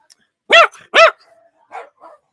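A puppy barking, two sharp, loud yaps close together followed by a couple of quieter yips, heard close up.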